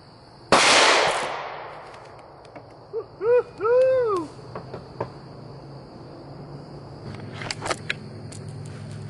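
A 9mm pistol round fired into a clay target gives one sharp, loud broadband crack with a short decaying tail, then quieter rustles and a few faint clicks and chirps afterward.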